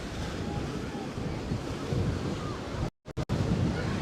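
Ocean surf and gusting wind at Coney Island beach on a winter day, a steady roar of breaking waves with wind buffeting the microphone and brief dropouts near the end.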